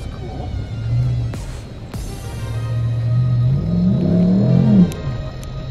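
A rally car driving off-road through a clearing in Clewiston, its engine rumbling up and down with rising revs that surge and then drop, loud and close, with no talk.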